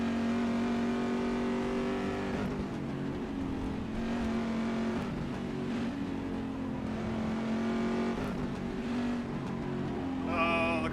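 Engine of an LMP2 prototype race car at Silverstone in rFactor 2, a sustained high revving whine with shifting pitch as it draws nearer, loud and continuous, with no speech.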